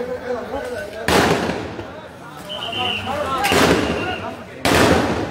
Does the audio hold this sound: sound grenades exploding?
yes